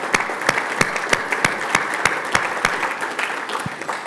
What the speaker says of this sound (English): So let's give them all another round of applause.